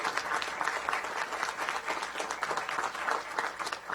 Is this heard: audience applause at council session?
yes